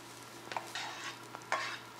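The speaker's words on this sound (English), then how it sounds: "The coconut turns brown when it is fried." Soft crackling sizzle of coconut frying in a pan, with a few brief stirring scrapes and bursts, quiet and close.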